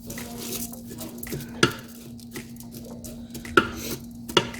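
Oil and garlic in a hot pan for smothered burritos, a low steady sizzle with faint patter and three sharp pops or utensil knocks, close and moderate in level.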